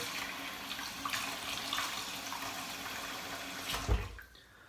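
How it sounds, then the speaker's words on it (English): Tap water runs into a bathroom sink as it fills, a steady rushing splash that swells briefly near the end before cutting off to quiet. "I'm gonna fill my sink with a little bit of water here."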